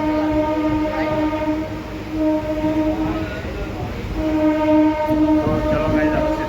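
A passenger train pulls out of Kheralu railway station, its steady rolling rumble running throughout with a sustained horn-like tone that breaks off and resumes, and faint voices in the background.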